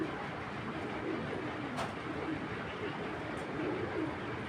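A khaki tournament pigeon coos softly in a few low, rolling bursts, faint against a constant background hiss.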